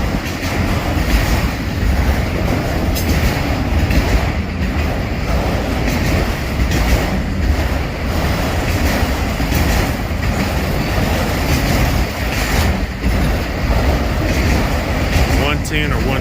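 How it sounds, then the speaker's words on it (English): A freight train rumbles past close by, loud and steady, with rhythmic clicks of wheels over rail joints and a faint squeal near the end. "Now that I see it, this looks like this could be train 110"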